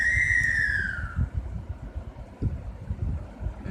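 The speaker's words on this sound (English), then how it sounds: "it's a watch guard whistle outside" A watchman's whistle blows outside as a single sustained shrill tone that bends slightly downward, audible for about a second over low rumbling background noise and wind.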